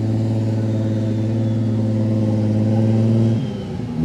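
Drift car at a motor event at the Nürburgring, its engine holding a steady, throaty high-revving drone up close, then dropping abruptly near the end as the revs fall.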